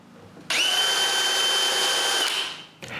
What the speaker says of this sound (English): I begin by drilling some pilot holes for the hinges screws.